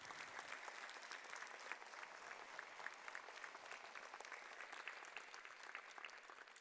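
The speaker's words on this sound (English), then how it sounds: "Let's give them a collective round of applause." An elementary school audience at a fifth grade promotion ceremony claps for an award recipient, a steady, dense round of applause from many hands filling the room throughout.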